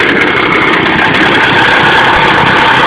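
A Victa 160cc lawnmower engine fitted to a go kart idles slightly raised, a steady, loud, continuous buzzing drone with no pauses and no talking.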